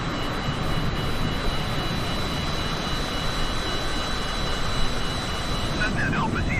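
A Cessna engine in Microsoft Flight Simulator 2020 drones steadily in a constant cabin rumble, with radio voices exchanging air traffic calls over it.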